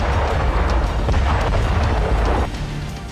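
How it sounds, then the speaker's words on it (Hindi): Russian rocket strikes exploding around Kupiansk in war footage, a loud, continuous rumbling roar of blasts with scattered cracks that eases slightly near the end. "कुपियांस्क में रूसी सेना ने ताबड़तोड़ रॉकेट दागे।"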